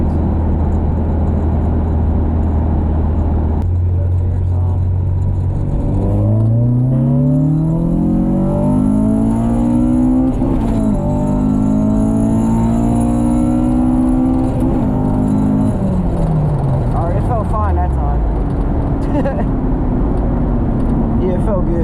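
A Honda Civic with an H2B engine swap pulls hard, its engine note climbing steadily in pitch through the gears before dropping off as the car eases back, loud and close from inside the car.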